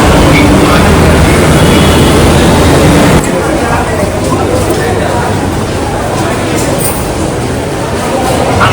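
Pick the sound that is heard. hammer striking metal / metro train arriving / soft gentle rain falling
metro train arriving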